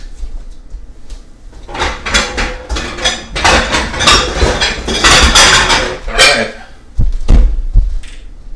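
A kitchen container is pulled out during Tex-Mex lasagna prep, with a run of hollow clatters, knocks and scrapes as dishes and cupboard parts bump together. Two sharp thuds near the end sound close and loud.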